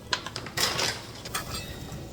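Green beans and potatoes tumble into a pan of sautéed onion, heard up close as a few scattered clatters and rustles against the pan, with a faint sizzle underneath.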